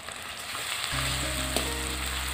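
Spice paste with ginger-garlic paste and country chicken hits a hot pan and bursts into loud, steady sizzling after a quiet moment, with faint stirring scrapes over the frying.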